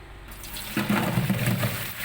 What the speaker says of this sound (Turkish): Bu kireçli suyu süzeceğiz.